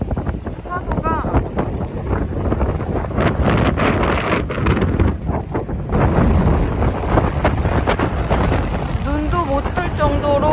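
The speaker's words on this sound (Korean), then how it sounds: "바람이 엄청 심해요 진짜." Strong typhoon wind buffets the microphone at Gyeongju's Goun sand beach, a loud continuous roar with gusting rumble and surf beneath, while a person speaks faintly through it.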